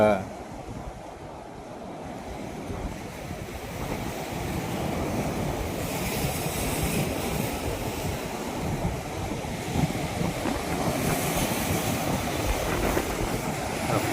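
Steady roar of sea surf with waves washing in around the Vattakottai sea fort, mixed with gusting wind noise on the microphone; no clear individual breaks, just continuous wash.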